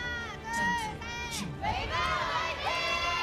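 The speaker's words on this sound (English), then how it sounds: "let them do their cheer first, and then, I'll talk." Fans at a Korean Overwatch Contenders esports match shout and chant a team cheer together, a loud, sustained crowd roar with rising and falling voices.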